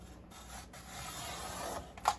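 Scissors trimming a printed paper picture closely around its edge, ready for sealing in epoxy resin; a quiet, close rasping cut runs steadily, ending in a brief sharper snip.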